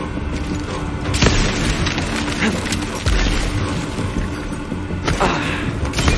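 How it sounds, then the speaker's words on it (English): Heavy cannon blasts boom in Shadow Warrior 3, three or four loud explosive impacts spaced a couple of seconds apart over dense, continuous combat rumble. "That's Hoji's cannon slash laser slash giant disaster!"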